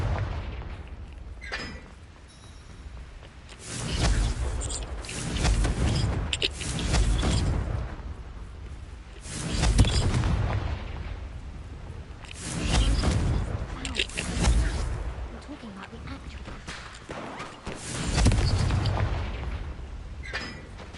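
Repeated blasting spell explosions in Hogwarts Legacy, fired during a staircase fight: a series of loud booming bursts roughly every few seconds, with a voice speaking between some of them.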